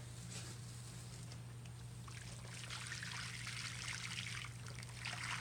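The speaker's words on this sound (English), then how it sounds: "Here's my pattern and my plaster I'm now going to pour." Liquid plaster being poured from a container over a pattern into a mold, a soft, continuous watery trickle with gently shifting texture throughout, quiet, close and alone under a low steady hum.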